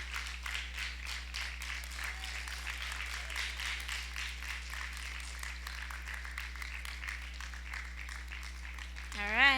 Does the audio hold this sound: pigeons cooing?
no